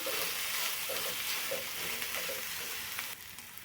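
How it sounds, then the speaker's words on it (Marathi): Matki (moth bean) stir-fry is stirred in a pan, making a continuous close sizzle with soft periodic scraping strokes. No one speaks. "हे व्यवस्थित मिक्स करून घ्यायचं"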